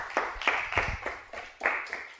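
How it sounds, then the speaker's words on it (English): Sparse clapping from a small lecture audience after a physics speaker is introduced, a handful of distinct, fairly close hand claps spaced irregularly over two seconds, with no talking. "So please, huge applause for Mark."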